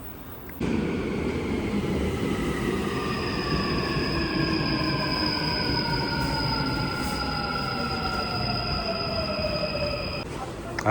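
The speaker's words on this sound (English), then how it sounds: "Now I'm taking the metro." An Incheon metro subway train rumbles steadily along the track, with rising and falling whine tones from the motors and a faint squeal over a loud continuous roar.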